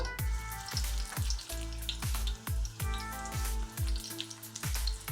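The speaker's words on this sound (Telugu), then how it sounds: "ఇంకా ఇట్లాగనే అన్ని ముక్కలు మనం ఫ్రై చేసుకోవాలి. చూడండి ఇంకా సెకండ్ బ్యాచ్ వేస్తున్నా." Pieces of fish for a crispy fish fry cook in hot oil as a second batch goes in, producing a soft continuous sizzle with regularly spaced pops and crackles, fairly faint and with no talking.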